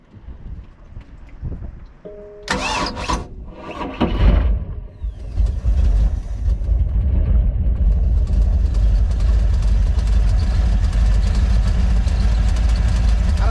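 A boat engine cranks with a few clattering turns, catches, and settles into a loud, steady low rumble that keeps running.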